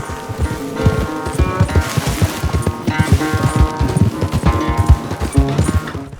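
Horses gallop hard in a race in Red Dead Redemption 2, a steady rapid clip-clop of hooves with overlapping beats, loud and close under a busy layer of game music and ambience, with no talk.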